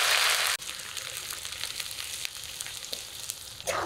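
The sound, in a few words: chopped onions frying in oil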